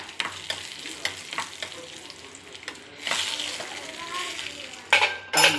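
Onions frying in a pan until brown, a steady close sizzle broken by repeated stirring scrapes and a few sharp utensil clinks near the end.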